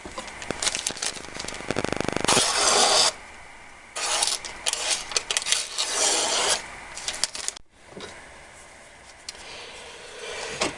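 Bursts of harsh abrasive rubbing as an N690 steel kitchen knife blade is sanded, with pauses between strokes, close and fairly loud.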